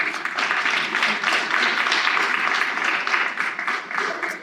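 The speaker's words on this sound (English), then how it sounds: "Let's give them a round of applause." Steady applause from an audience at an Autism Action Day community program, a dense wash of clapping held at even loudness for several seconds with a faint voice beneath it.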